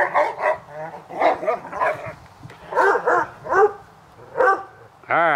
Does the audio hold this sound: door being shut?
no